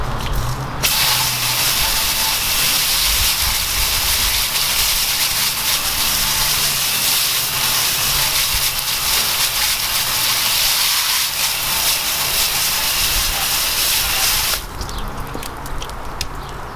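A loud, continuous hiss of a water spray rinsing a Honda S2000 runs steadily for over a dozen seconds, then cuts off abruptly.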